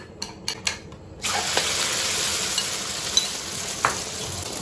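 Eggs with chrysanthemum greens stir-fried in a wok, a few sharp clanks of the spatula giving way to a steady close sizzle with occasional scrapes.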